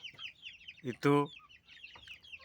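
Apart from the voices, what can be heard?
chickens clucking, layer and Bangkok cross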